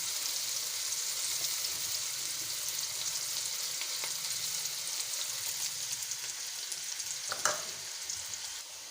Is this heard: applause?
no